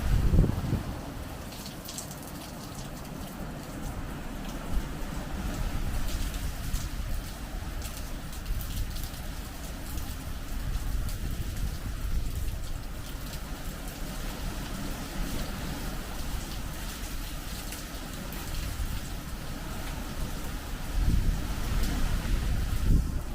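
Hurricane Milton's wind and rain roar steadily as a dense, loud broadband rush, with gusts buffeting the microphone and heavier bursts at the start and near the end.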